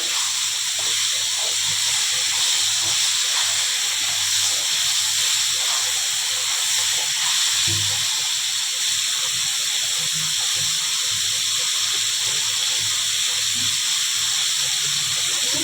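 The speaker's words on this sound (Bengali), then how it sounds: "নেড়ে দিচ্ছি ভালো করে এটা ভাজা ভাজা হবে" Potato and pumpkin frying in a pan for a vegetarian vegetable curry, giving a steady loud hiss and sizzle that runs without a break from start to finish, with one brief thump of stirring partway through.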